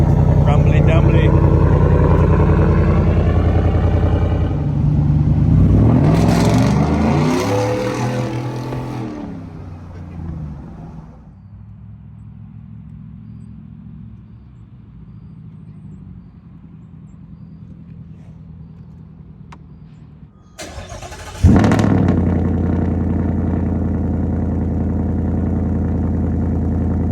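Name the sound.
Ford Coyote engine revving with new louder exhaust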